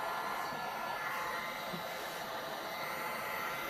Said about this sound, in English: A little bit of heat in the middle.